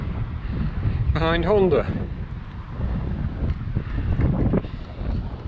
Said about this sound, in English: But this is so hideously windy.